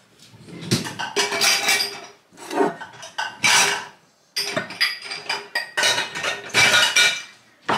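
Dishes and cutlery clink and clatter while a home dishwasher is loaded, with steady close clanks and rattles in quick runs and brief pauses between handfuls.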